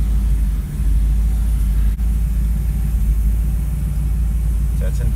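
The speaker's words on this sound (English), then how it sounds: "You can see it's idling really nicely now." A 1962 Cadillac Coupe's engine idles steadily after a cold start, a low, even rumble held close and constant throughout with no other sounds over it.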